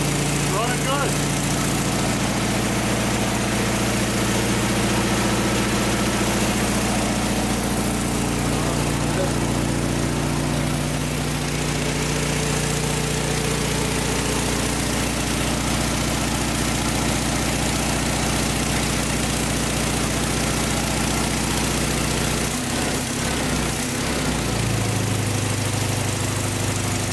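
An old Volkswagen engine, run again after 24 years sitting in a barn, idles with a steady low rumble for nearly half a minute, close and constant, with a brief shift in tone near the end.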